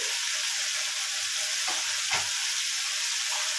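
Spice paste frying in a pan for a panch phoron pabda fish curry gives a continuous close sizzle, with a brief stir or scrape near the middle and no voices.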